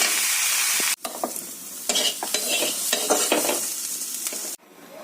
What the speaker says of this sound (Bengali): কপি পাতাটা দিয়ে দেবো অল্প একটুখানি নিয়ে ভেজে নেবো